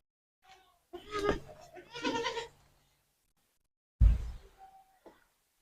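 A goat bleats several times in a farmyard, loud and close, a few calls in a row with short gaps between them, followed after a pause by another short bleat, with no speech.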